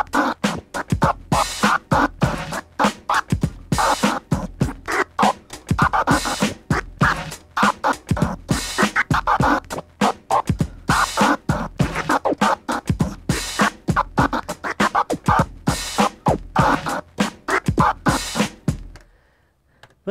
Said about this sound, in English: Now, if I'm supposed to play the same transformer scratch with the beat,